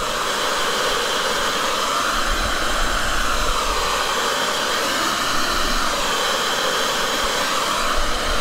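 A hair dryer blows steadily and loudly for several seconds, drying a painted art composition, a continuous rushing whoosh with no talk over it.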